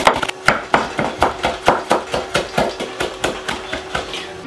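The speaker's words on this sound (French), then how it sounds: "Le persil est assez bien haché" A knife chops parsley on a cutting board in quick, even strokes, about three to four sharp taps per second, close and crisp.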